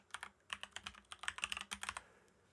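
Close, rapid keystrokes on a computer keyboard as an item is renamed in After Effects, coming in quick irregular bursts with no talking.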